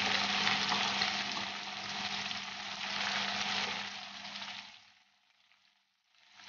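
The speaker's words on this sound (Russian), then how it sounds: "Немножко дадим поджариться." Chopped red onion and carrot sizzle steadily in a hot pan, a close, even hiss that holds for several seconds before dropping away to near quiet.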